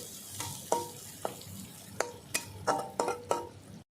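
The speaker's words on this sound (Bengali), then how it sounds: "একটা বড় সাইজের পেঁয়াজ কুচি করে নিয়েছি ওটা দিয়ে দেবো একটু লাল করে ভেজে নেবো পেঁয়াজটা" A large chopped onion fries in oil in a pan for a silver carp and potato curry: a low sizzle broken by about seven sharp spatula knocks against the metal, close up with no voices.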